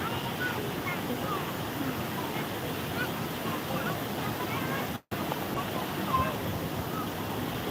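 A waterfall where children play splashes in a constant broadband rush of falling water, loud and steady, with faint voices mixed in.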